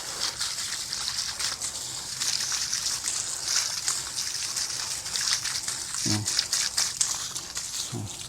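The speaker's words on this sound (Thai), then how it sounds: "อ่ะทีนี้เปิดน้ำหน่อยต่อ เราก็ล้างออกเนี้ย" Tap water running over cutting roots of culantro plants during rinsing, heard as a continuous close splashing hiss with crinkly rustling of the plant material, with two short low bumps near the end.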